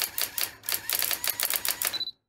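A typewriter driven by an Arduino clatters out a login prompt in a quick burst of about a dozen sharp key strikes, then the carriage bell dings and it goes silent.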